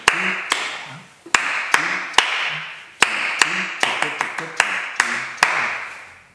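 Cup beat rhythm from a primary music lesson: plastic cups and hand claps strike out a repeating pattern of crisp, close taps in clusters, the quick hits ringing briefly and nobody speaking.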